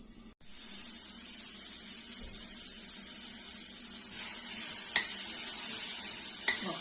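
Green peas frying over low heat in oil in a covered pan for matar chaat, a steady bright hiss that grows louder partway through, with a few light clinks of a utensil on the pan.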